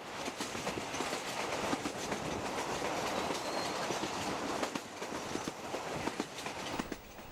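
A steady rumble of a train rolling south along the Tazara line tracks in Tanzania in 1999, with rhythmic clicking of wheels over rail joints and occasional faint squeals.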